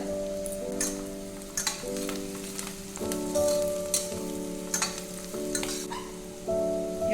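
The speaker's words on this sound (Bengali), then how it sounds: "এটা ভালো করে ভেজে নেব" Chilli and spices frying in oil for a taro leaf and red lentil dish, a steady close sizzle with a few stirring clatters and scrapes over it, no talk.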